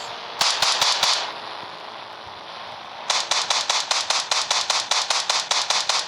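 AK-47 fire in the mobile game Indian Bikes Driving 3D comes as a short burst of sharp shots, a pause, then a long run of evenly spaced rapid cracks.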